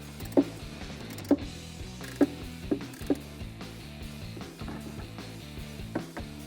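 A socket wrench tightens intake bolts on a Jeep Gladiator, giving a series of sharp metallic ratchet clicks in short bursts close by, followed by softer mechanical rattling.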